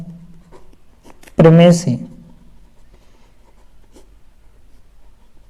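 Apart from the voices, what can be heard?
writing on a board or paper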